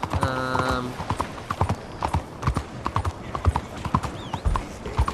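Horse hooves clip-clopping at a steady trot in Red Dead Redemption 2, crisp repeated hoofbeats close up, with a brief whinny at the start and faint ambient sound around them.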